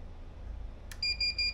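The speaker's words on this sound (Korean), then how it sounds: "정상일 때는 삐삐 소리가 나고" A DJI remote controller confirms a successful calibration in the DJI Fly app: a sharp click, then a quick run of three bright electronic beeps over a low background hum.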